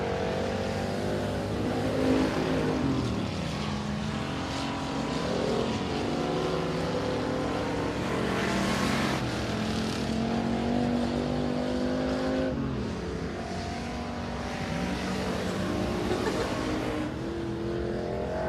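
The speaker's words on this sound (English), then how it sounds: "So Michael Rawls in the 32 ARC car," Race car engines roar at a speedway during time trials, a continuous loud drone with rising and falling pitch as the car accelerates and passes, sustained throughout with no talk.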